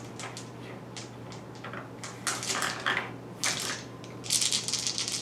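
Eight dice rolled for an attack in the tabletop miniatures game Godtear, a dense clatter of plastic dice tumbling and knocking, building into a louder rattle near the end, close and with no talk.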